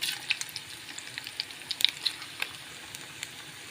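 Egg balls deep-frying in hot oil over a medium flame, a steady close sizzle with scattered crackling pops and spits, no voices.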